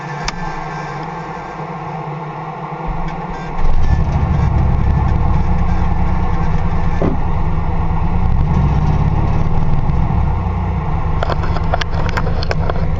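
A 2005 Dodge engine cranking, catching near four seconds and settling into a loud, steady, close idle that runs evenly to the end.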